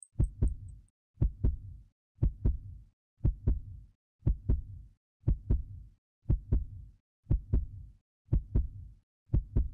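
Steady looping heartbeat effect from the video game Combat Arms, a double thump repeating about once per second through the whole stretch, close and clear with no talk over it.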